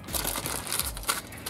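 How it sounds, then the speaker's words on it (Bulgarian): Baking paper crinkles and crunches as it is folded tightly around a pork leg for roasting, in several quick close rustling bursts with no voices. "Така, както сме загънали добре хартията"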